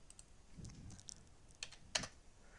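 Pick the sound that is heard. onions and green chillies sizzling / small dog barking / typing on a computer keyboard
typing on a computer keyboard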